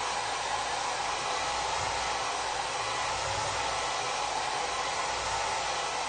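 A hair dryer blowing on craft paint over a wooden pallet piece, a steady close whooshing roar held evenly throughout with no talk.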